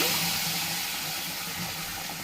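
Hot water pours steadily into a pot of prawn and potato curry, a continuous close splashing and gurgling that fades slightly toward the end.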